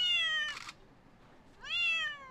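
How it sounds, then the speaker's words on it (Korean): A stray cat on a city street gives two clear, drawn-out meows, close and fairly quiet, separated by a short pause with a brief rustle between them. "길고양이 민원 순위 중 높은 비중을 차지하는 것은 바로 고양이 울음소리다."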